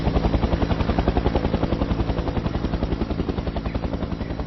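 A mountain rescue helicopter thumps steadily with fast, regular rotor beats, loud and close, running without pause throughout.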